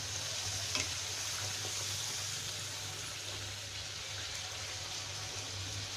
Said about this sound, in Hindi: पूरी अच्छी फ्राई हो गई है और अब हम टिश्यू पेपर पे एक प्लेट में निकाल लेंगे